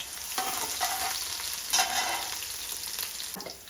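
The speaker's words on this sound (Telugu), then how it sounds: "ఇప్పుడు కొన్ని ఆనియను, 2 ఎండుమిర్చి వేసుకొని ఎర్రగా బ్రౌన్ కలర్ వచ్చే వరకు వేయించుకోవాలి." Sliced onions and two dried red chillies sizzle in hot oil for a fish curry, a steady soft frying hiss broken by a few louder bursts as a spatula stirs the pan.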